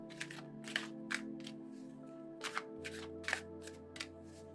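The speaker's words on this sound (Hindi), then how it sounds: "कार्ड्स जब तक शफल होंगे" Tarot cards shuffled by hand, a series of crisp riffling flicks and soft taps repeating about every half second over a steady low background hum, with no voices.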